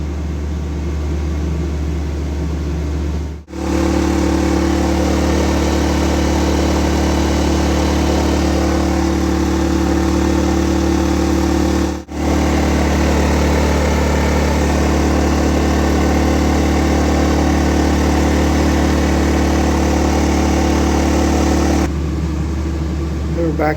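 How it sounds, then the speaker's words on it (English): A Wen DF680iX 6800-watt dual-fuel generator runs under load, powering an HVAC system, with a steady loud hum and strong low tonal drone. Two brief dropouts break the sound, and it ends quieter. "generator is a success, and it's running the HVAC system in here"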